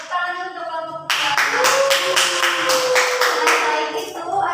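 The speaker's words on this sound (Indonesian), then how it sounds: "Tepuk tangan untuk kelompok 2." Students in a primary school class clapping for a group, a strong rhythmic burst of hands starting after a short spoken line, with a sustained voice sounding over the steady clapping.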